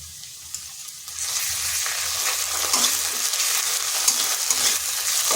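Garlic and ginger paste frying in hot oil, a bright steady sizzle that swells after a quieter start and keeps crackling with occasional stirring scrapes.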